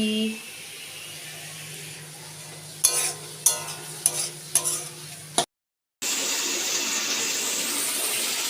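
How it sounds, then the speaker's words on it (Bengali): Potato and Malabar spinach chorchori cooking in a pan gives a steady sizzle with a few sharp scraping stirs near the middle, then a short break before the sizzling returns. "আলু দিয়ে পুঁই শাকের চচ্চড়ি হবে আর আমি রান্না করছি"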